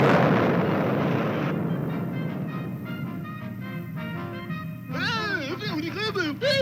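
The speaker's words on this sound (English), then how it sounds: "Fire that cannon." A cartoon cannon fires with a loud, broad blast that fades over about a second and a half, followed by a sustained musical tone and then a warbling, swooping cartoon voice.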